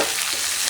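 Onions, soaked cashews and tomato frying in a pan for paneer butter masala, a brief close crackling sizzle that holds steady.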